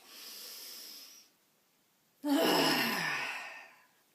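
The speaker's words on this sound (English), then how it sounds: "Let's take some deep breaths." Deep breaths taken during a guided relaxation exercise: a soft, drawn-out inhale, a pause of silence, then a louder, longer airy exhale close to the microphone.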